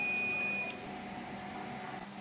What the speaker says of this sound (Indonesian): Kembali kita pakai range pengukuran buzzer.